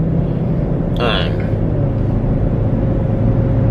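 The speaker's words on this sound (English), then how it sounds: "Is that my car or is that another car around me?" A car engine rumbles low and steady while driving, a continuous near drone with a brief higher-pitched burst partway through.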